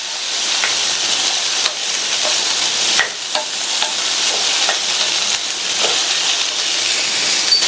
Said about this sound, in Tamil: இப்போ இந்த சௌசௌவை 1 நிமிஷத்துக்கு வதக்கிக்கலாம்.